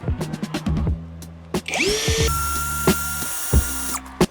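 Alpa cordless screwdriver during a speed test: clicks and brief handling knocks, then the motor spins up with a rising whine to a steady high-pitched run, shifting pitch as speed changes, close and loud.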